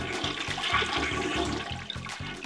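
A toilet flushes with a continuous rushing, gurgling pour of water that runs steadily for a couple of seconds at close range.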